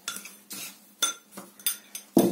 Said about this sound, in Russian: Все это теперь мы вот так вот перемешиваем.